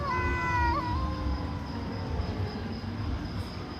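Stray cats meow and caterwaul in a tense standoff, with a drawn-out yowl near the start and continuous low, noisy background throughout, loud and close with no talking.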